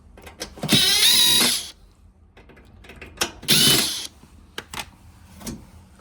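A T20 screw is driven out of a Miele dishwasher panel with a ratcheting screwdriver. Two close, loud bursts of rapid ratchet clicking are each about a second long, with softer tool handling clicks between them.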